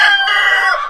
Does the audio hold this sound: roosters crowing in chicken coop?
yes